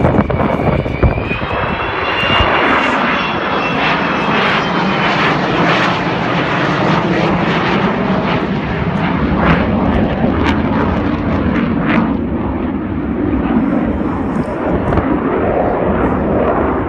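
A 55-year-old Avro Vulcan XH558 bomber making an airshow flypast, its jet engines a loud, sustained roar with a falling whine early on, close and continuous throughout.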